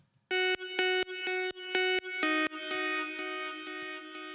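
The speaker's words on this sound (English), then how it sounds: "And here I have another synth layered here." Silent One software synth layer in a music production session: bright, buzzy electronic tones pulse in a rapid chopped rhythm, then blur into a sustained wavering pad. Loud and alone, with no talking.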